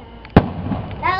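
Fourth of July fireworks burst outdoors. One sharp close pop stands out, with softer crackles and background murmur around it and a faint voice rising near the end.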